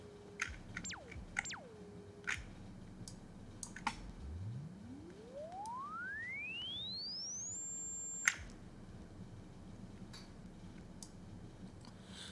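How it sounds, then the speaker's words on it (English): A pure sine tone from a self-oscillating synthesizer filter sweeps steadily upward from low to high pitch and holds briefly, after two short falling tone blips, over faint clicks. "most filters will start to self-oscillate, where they start making sine waves"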